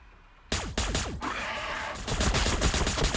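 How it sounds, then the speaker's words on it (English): Long-range Astra Militarum support gunfire hits Genestealers in a Warhammer 40,000 battle game: a sudden loud fusillade of overlapping shots and bursts that rolls on without a break, with no voices. "Long range support fire there, hitting the Gene Stealers."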